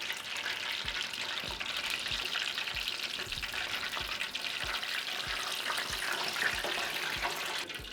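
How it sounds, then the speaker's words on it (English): Fried shrimp tacos crackle and sizzle in hot oil, a dense, steady bubbling hiss that fills the whole stretch, with faint regular low taps beneath it and no talking. "we can begin to fry our tacos"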